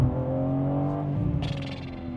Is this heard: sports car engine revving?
yes